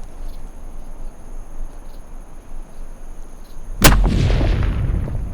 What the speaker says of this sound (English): Shoot him again. Shoot him.